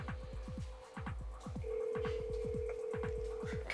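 An outgoing phone call rings through a speaker: a steady ringback tone sounds for most of the clip while a low, rapid throbbing pulse repeats beneath it, fairly quiet.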